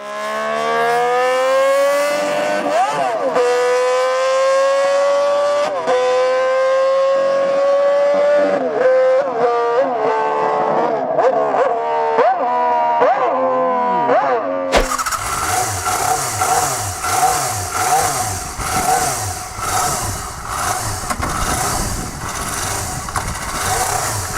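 A classic racing motorcycle engine revs hard at high rpm, rising and falling in sharp, loud wails with no talk, then shifting to a rougher, denser engine roar partway through.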